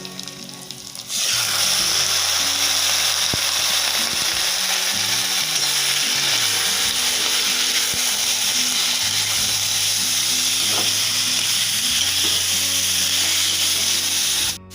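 Pork hits a pan of fried onions and bursts into loud, steady sizzling after a brief quiet start, continuing evenly with faint stirring scrapes underneath.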